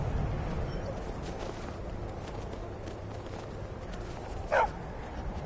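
A dog in Skyrim gives one short, sharp bark partway through, set against a low, steady ambient hum and faint footsteps.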